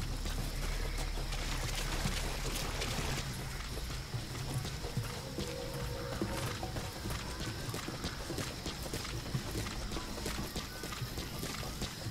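Horse hooves clip-clopping at a steady walking rhythm in the Metal Gear Solid V: The Phantom Pain video game, continuous and fairly faint under a dense wash of wind and ambient noise, with no talk.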